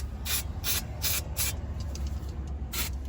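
Brake cleaner is sprayed onto a Ford Courier's oil pan drain plug in five short, hissing bursts, close and fairly quiet with brief pauses between them.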